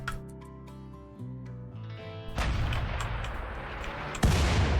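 Artillery or mortar fire in the RimWorld video game: two loud, booming blasts with rumbling tails, the second heavier, cutting in over background game music.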